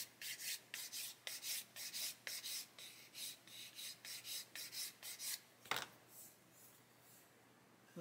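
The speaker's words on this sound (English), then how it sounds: "Okay, so this one here, do some more sanding." Repeated rhythmic rasping strokes of sandpaper rubbing against a small hard scale-model part, quiet and close, with a brief pause near the end.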